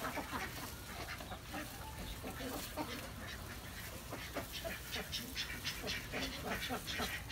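Egg-laying ducks quack repeatedly and fairly close, in a busy, overlapping chorus of short calls, while people talk over them.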